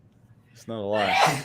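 A single sharp sneeze bursts out close and loud after a brief quiet lead-in, followed by a short voiced exhale, with someone speaking around it.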